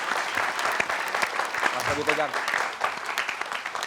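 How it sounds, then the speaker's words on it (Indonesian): An audience applauds in a television talk show studio, a continuous patter of clapping from many hands with a voice speaking briefly over it. "Tepuk tangan dulu boleh."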